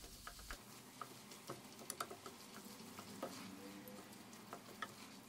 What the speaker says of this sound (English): Add the minced beef and mix continuously the minced meat until it becomes brown.